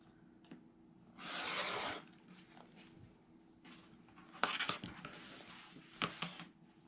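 Rotary cutter trimming minky fabric for a zippered pillow back: a dense rasping slice about a second long, then a few shorter scraping cuts and light taps, close and fairly quiet, with no talking.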